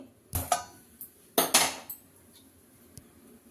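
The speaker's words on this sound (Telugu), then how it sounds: "పచ్చడికి ఒక బాండీ పెట్టేసుకొని" Metal frying pan set down on a stove for making chutney: a few sharp clanks and scrapes, close and distinct, in an otherwise quiet kitchen.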